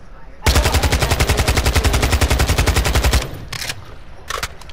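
Rapid automatic gunfire rattles from a shooter game on the Vondel map, a long close burst of evenly spaced shots for almost three seconds, then a few shorter bursts and single shots.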